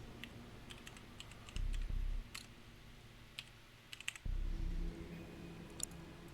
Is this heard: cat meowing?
no